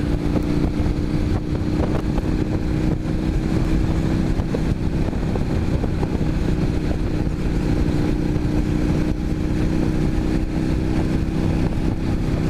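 An Indian FTR 1200 motorcycle throttles up Garraby Hill, a steady loud engine drone with a low rumble, heavily buffeted by wind noise across the whole stretch.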